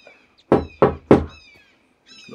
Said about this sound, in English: Knock on the window, that'll sort him out.